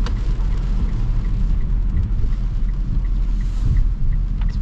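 2024 Mitsubishi Eclipse Cross engine accelerating, heard from inside the cabin as a steady, deep, muffled rumble that swells slightly, with no talking.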